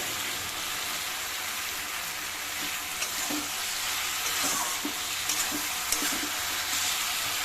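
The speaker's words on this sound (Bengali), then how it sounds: "ভালো করে নাড়াচাড়া করে মশলাটা একটু ভাজা ভাজা হয়ে গেলে" Spices and mango pieces fry in a pan while being stirred, producing a dense, continuous sizzle close up with occasional soft scraping knocks from the spoon.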